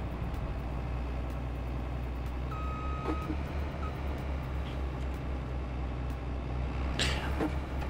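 A vehicle in Farming Simulator 22 gives a brief steady reversing tone over a constant low engine hum, followed later by a short noisy burst; fairly quiet, with no talk.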